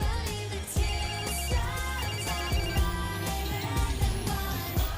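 A comically loud phone ringtone in a movie scene rings out steadily over background music, with repeated bright electronic tones.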